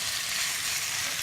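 Steady loud sizzling of cabbage and webfoot octopus stir-fried with plenty of garlic in a hot pan, a continuous hiss with no speech.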